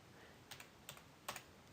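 Three separate computer keyboard key presses, quiet, close and unevenly spaced in an otherwise still room, with no talking.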